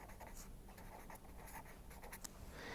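An equation is written down during a concrete and steel slab bridge design lecture, making faint, close scratching strokes in short irregular bursts with no voices.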